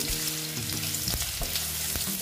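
Potatoes frying in a pan with a constant close sizzle and a few soft stirring knocks, heard alone.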